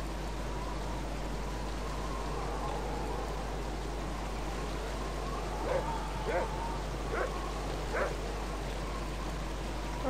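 A dog in the video game Baldur's Gate gives a few short, faint barks over a steady low hum and soft ambient noise, with the barks spaced out in the latter half.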